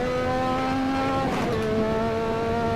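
Engine of a car in the Assetto Corsa racing game, running before the turbo has kicked in, a steady close drone with a slight pitch shift midway and no voices.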